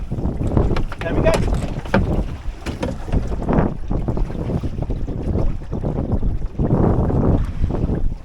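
A sailboat running downwind with all sails poled out, heard as continuous rushing water and heavy wind buffeting close to the microphone, with no clear speech.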